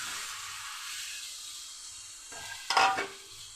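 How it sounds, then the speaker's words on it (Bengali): A spoon scrapes and stirs chopped tomatoes into fried dried fish (sidol shutki) and spices in a pan, a soft sizzle under a few quiet scrapes and one brief, sharper clatter near the end, with no talking. "সামান্য কিছুটা নেড়ে চেড়ে দিচ্ছি"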